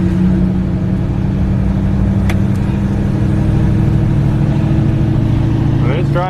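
A Nissan Titan XD pickup with a turbo engine drives along with a steady, loud engine drone and road rumble, and the pitch rises slightly near the end.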